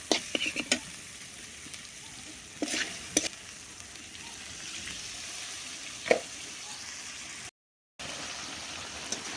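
Spice paste fries in oil in a pan as fish is cooked for a Bengali dish, giving a steady close sizzle broken by a few sharp scraping stirs, with one brief silent gap near the end.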